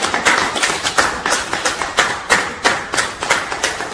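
A church congregation applauding, with rhythmic, fairly steady clapping in unison at a moderate pace, loud and close, with no clear cheering audible.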